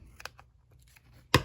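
Scissors snip off excess paper trim in a few quiet, separated cuts, ending with one louder, sharper crunch near the close; no one speaks.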